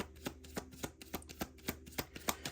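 A deck of tarot cards is shuffled close up, giving a steady, even series of soft slapping riffles about three or four per second; no one talks.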